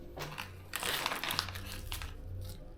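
A plastic bag holding FPV drone accessories crinkles close by as it is handled, a steady rustling crackle for a few seconds.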